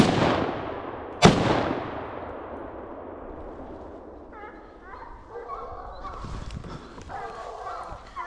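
A single loud, close rifle shot cracks out and rings into a long fading echo during an outdoor wild boar hunt, followed by faint rustling and chattering birds in the background.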